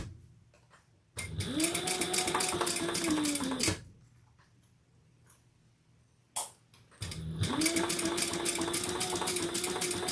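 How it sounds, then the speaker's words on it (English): A sewing machine with a slightly lengthened stitch sews down each side of a sling pack. Two long runs of fast, close whirring chatter are split by a quiet pause with a brief click, and no voices. "we'll just stitch down each side"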